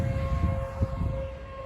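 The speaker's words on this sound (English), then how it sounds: "But man, the sirens are going." Tornado warning sirens sound outdoors in Carrollton, Ohio, as a steady, sustained wail holding over a rumbling, windy low background, with no talking.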